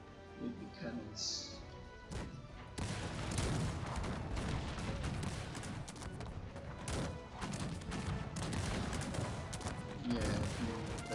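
Cannon fire from a Cossacks 3 battle booms repeatedly through a dense layer of gunfire and clashing battle noise, with someone speaking over the fighting.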